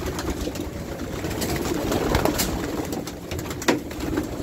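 Pigeons cooing softly against a constant rushing outdoor background, with a brief sharper sound near the end and no talking.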